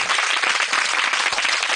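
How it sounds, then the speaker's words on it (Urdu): Applause from a crowd gathered with flood-affected children in Sohbatpur, Balochistan, cheering a boy who wants to be a soldier: dense, steady clapping that fills the whole moment at an even, loud level, with no voices rising above it. "تالیاں لگائیں ان کی"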